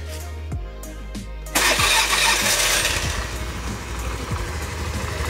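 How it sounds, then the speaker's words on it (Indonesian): A 2013 Honda Beat FI scooter's noisy starter motor whirs and cranks briefly before the engine catches and settles into a steady, close, rattly idle, with no talk over it. "Terus kekurangannya adalah ini starternya masih berisik ya."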